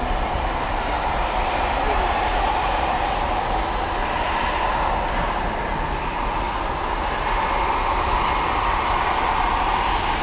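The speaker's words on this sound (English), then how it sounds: "American 1111 checking in from Toronto, an Airbus A320." Jet engines of an American Airlines Airbus A320 roar steadily and loudly at DFW Airport at night. The broad, constant rushing drone carries a faint high whine and holds without a break throughout.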